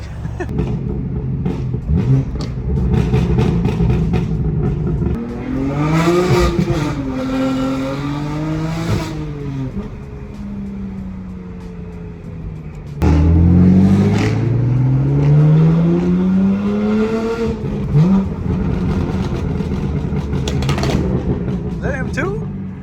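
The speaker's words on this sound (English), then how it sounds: "isn't it crazy that the M8 has like stock burbles like that?" A stock BMW M8 driven at night, its engine revving up and down in loud rising and falling sweeps with popping exhaust burbles on lift-off, heard close from inside the car with people talking over it.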